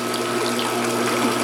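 A pool filter pump pushes water through a big bin, giving a steady, close-up churning and gurgling hum with a faint mechanical rattle and no pauses.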